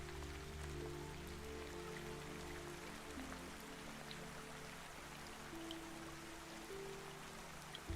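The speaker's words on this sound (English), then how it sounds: "Threaded through the sound of rain, there comes another gentler sound now, the faint movement of running water somewhere below." Steady rain patters on surfaces with a soft, continuous hiss, mixed with the faint flow of running water from a stream somewhere below, calm and even throughout with no voices.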